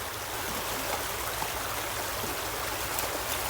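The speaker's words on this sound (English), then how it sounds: "So you can see the water's coming out of here. It's very deep today." A deep stream of water flowing steadily outdoors, a close, continuous broadband rush and babble with no voices over it.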